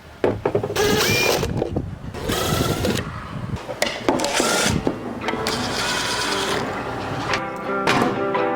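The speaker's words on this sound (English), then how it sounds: "So I'm going to add a few more screws to make this really sturdy." A power drill drives screws into wood during a van seat build, with repeated whirring bursts that start and stop between short pauses, loud and close.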